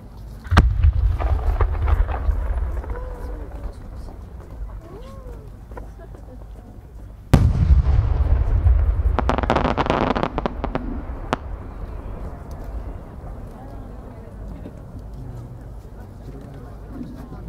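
Aerial firework shells burst at the Aizu fireworks competition for No. 8 thousand-ring shells, with a heavy boom followed by crackling, then a second loud boom midway setting off a long fizzing, crackling cascade, as a crowd murmurs in the background.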